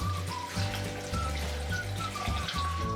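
Four cups of water poured into a container of chopped cucumber for a summer juice, a steady splashing stream lasting about three seconds under faint background music.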